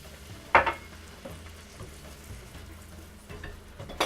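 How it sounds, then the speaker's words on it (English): Garlic frying in a pan for a beurre blanc sauce: a soft, steady low sizzle with occasional stirring scrapes and a sharper hiss burst as white wine is poured in, close and fairly quiet. "I'm just trying to fry it down just a little bit. We're going to add our white wine."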